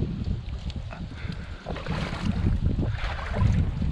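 Gusty wind buffets the microphone outdoors at a beaver trapping site by the water, a loud, uneven low roar that swells and dips throughout with no talk.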